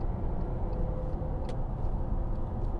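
A 2009 Audi A6 Avant 2.7 TDI Le Mans Multitronic diesel accelerating on the road, a steady loud engine and road rumble heard from inside the car.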